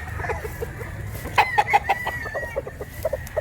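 Roosters and chickens at a fowl yard in Mantalungon, Barili, Cebu crow and cluck nearby, with a burst of sharp clucks in the middle over a constant low farmyard murmur.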